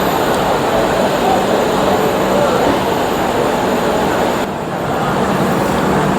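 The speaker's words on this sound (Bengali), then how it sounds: "প্ল্যাটফর্মে দিচ্ছে আমাদের ট্রেন" A passenger express train at a Sealdah station platform gives off a continuous low rumble and rolling noise with a roaring wash of sound, steady throughout with a slight dip near the end.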